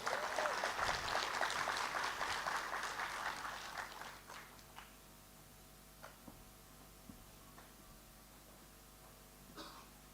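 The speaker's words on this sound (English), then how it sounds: "let's welcome Kuku Vlagati with a round of applause to the podium" An audience at a Sacco Indaba conference at Esibayeni Lodge, Matsapha, applauds as a speaker comes to the podium, with dense clapping for about four seconds that then fades into room tone and a few scattered claps.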